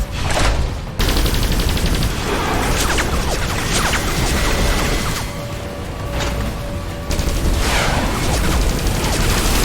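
Rapid bursts of gunfire aimed at incoming missiles in the video game Xenoblade Chronicles X, loud and dense across the whole stretch, with a brief lull before the firing starts and booming impacts mixed in.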